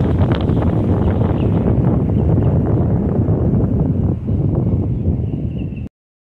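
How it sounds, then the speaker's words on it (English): Wind gusting across a lake during a fishing outing, a loud continuous roar buffeting the microphone for several seconds before cutting off abruptly. "When it gusts like that, I wait."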